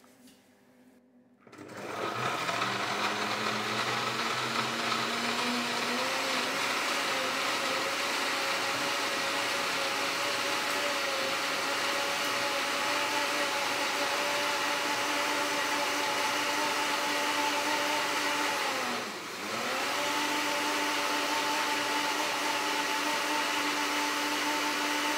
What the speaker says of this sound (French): donc on va mixer d'abord la partie liquide.